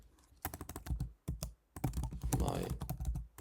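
Typing a message on a computer keyboard, quick bursts of close, crisp keystrokes in uneven runs with brief pauses between them, no talking.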